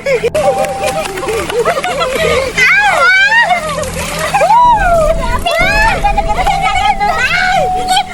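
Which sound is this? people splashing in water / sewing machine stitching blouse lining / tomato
people splashing in water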